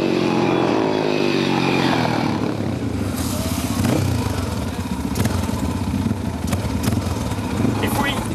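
A supermoto motorcycle engine on a track runs loud and close, revving and changing pitch with rattling mechanical clatter, a continuous roar across the whole stretch.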